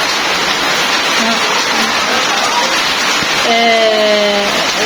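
Steady, heavy rain pours down close by as a dense, unbroken roar throughout. A faint voice briefly rises under it toward the end.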